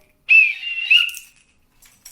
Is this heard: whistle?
yes